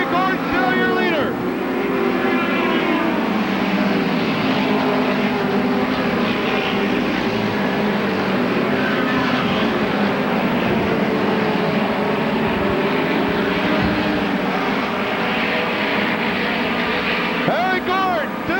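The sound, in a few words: midget race cars racing at Belleville Midget Nationals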